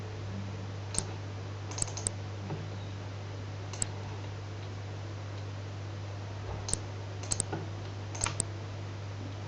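Sparse computer mouse clicks, a few single and paired sharp ticks spaced over several seconds, faint against a steady low electrical hum with no talking.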